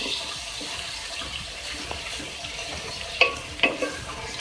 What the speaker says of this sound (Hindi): अच्छे से मिक्स कर लें।